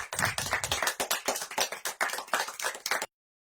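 Audience applause welcoming a speaker at an international education conference, a brisk burst of many hands clapping in quick, fairly close, uneven beats for about three seconds before cutting off.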